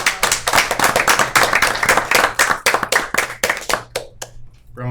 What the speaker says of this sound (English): So I want to give them a great round of applause.